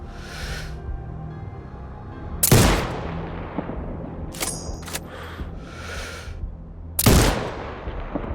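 Two sharp, loud sniper rifle shots in the video game Sniper Ghost Warrior Contracts 2, spaced a few seconds apart, each with a reverberant tail over a steady low background hum and faint game effects.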